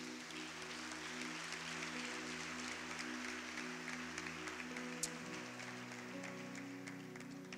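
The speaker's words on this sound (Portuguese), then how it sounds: "Aplauda o Senhor mais uma vez." Faint, continuous clapping from a church congregation, heard distantly beneath steady sustained keyboard chords throughout.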